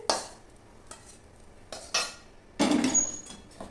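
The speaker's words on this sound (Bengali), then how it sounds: "ঢেলে নিচ্ছি বোলের মধ্যে" Soybean mash is scraped and poured from a pan into a bowl, heard as several short, close metal scrapes and clinks of a spoon against cookware, separated by brief pauses and ending in a longer scraping burst.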